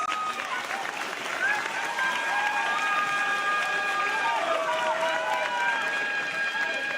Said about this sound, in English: please give all of our final 8 delegates a big round of applause.